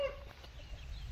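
Chickens on a village farm cluck softly for about a second, faint and a little distant, with a low background rumble and no voices.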